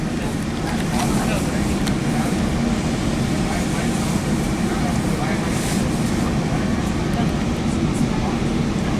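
Riding behind an EMD F40 diesel locomotive on South Coast Rail, a steady, loud, broadband rumble and roar of the moving train fills the cabin continuously with faint clatter.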